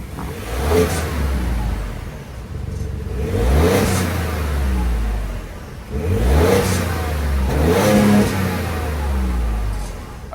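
The 2.7-liter twin-turbo EcoBoost V6 in a 2024 Ford F-150 STX is revved from idle in repeated blips. There are four swelling rises and falls about two seconds apart, loud and close, with a rumbling exhaust and no talking.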